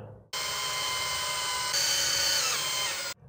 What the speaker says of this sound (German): danach mit Gefühl festschrauben